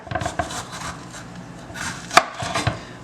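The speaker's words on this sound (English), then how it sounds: "So we're just going to cut this pepper down." A knife chops a pepper on a cutting board while preparing sweet and sour pork chops, giving a few close, irregular crisp chops with light scraping between them.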